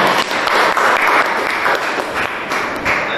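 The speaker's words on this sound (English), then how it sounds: "Please give me a round of applause in advance so I know how many people are there in the room" A room full of people gives a sustained round of applause, dense steady clapping running the whole length at full volume with no talk over it.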